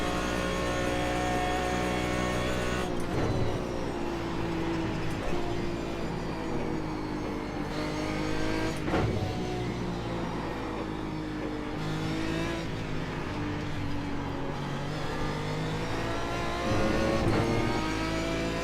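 Aston Martin DBR9 race car engine in iRacing at Mosport, a loud continuous roar rising and falling through gear changes and throttle lifts, heard close up and alone.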